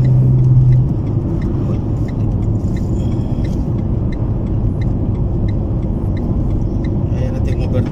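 Car interior rumble while driving and overtaking on a double-lane road near Haverfordwest and Pembroke in Wales, a steady low engine and road drone with a person talking over it.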